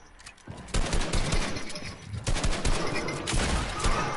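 Rapid gunfire in Fortnite, a burst of repeated close shots in quick bursts over about three seconds, fairly loud against light background game noise.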